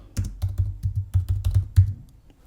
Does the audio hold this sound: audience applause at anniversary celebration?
no